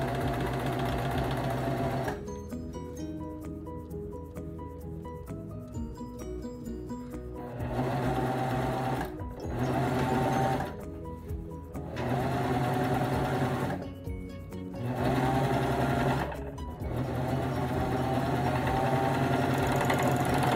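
A serger sewing machine stitches small doll bell-bottoms in loud, close bursts of rapid mechanical whirring. Brief pauses separate stitching runs of several seconds each.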